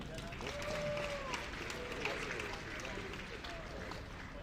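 Audience applause at a USAPL raw powerlifting nationals meet, a steady wash of clapping that fills the hall while an announcer keeps talking over it.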